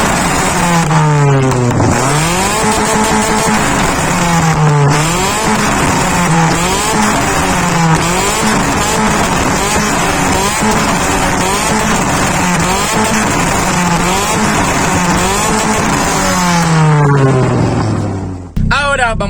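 Modified 2006 Chevrolet Corsa Active with a 1.5 engine revs hard and continuously, its pitch repeatedly climbing and dropping in sweeping loud pulls before cutting off near the end, with background music underneath.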